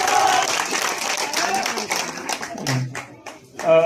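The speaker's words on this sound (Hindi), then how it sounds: "जोरदार तालियां" Loud applause and patterned clapping from a crowd at a Ward 10 campaign gathering for INLD candidate Ankush Nishad, dense at first and then thinning into scattered sharp claps, with a voice speaking over it.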